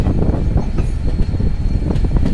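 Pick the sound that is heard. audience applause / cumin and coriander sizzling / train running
train running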